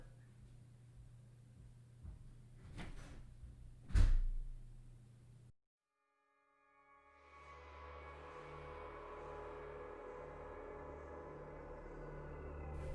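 A door clunks open or shut with a sharp thump, preceded by a few lighter knocks, then the sound cuts out before ambient music fades in.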